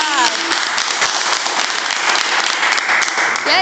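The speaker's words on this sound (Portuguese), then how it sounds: "Salva de palmas!" Students break into sustained applause at the close of a school project presentation, a dense wash of clapping filling the whole few seconds, with a faint voice surfacing near the end.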